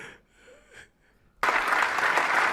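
Audience applause breaks out suddenly after quiet murmuring, a dense, steady burst of clapping that fills the end of the clip at full loudness.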